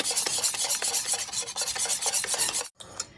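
Icing sugar, sugar and four eggs being mixed by hand in a bowl for a flan: quick, rhythmic scraping strokes repeating steadily and close, breaking off briefly before one last pass.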